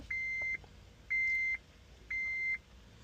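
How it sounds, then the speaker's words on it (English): Three steady electronic beeps from a 2010 Honda Civic immobilizer, evenly spaced about a second apart, clear and fairly close against a quiet background hum. "Now we're beeping."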